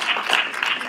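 Applause from the audience at a Women's History Symposium, a fairly full burst of many people clapping, steady and moderately loud, with no talking heard.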